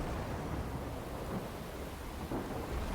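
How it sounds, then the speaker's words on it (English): A thunderstorm in the Total War Warhammer 2 video game: a continuous heavy wash of rain with low rumbling thunder rolling beneath it, steady and fairly loud, with no talking. "that's quite the thunderstorm there"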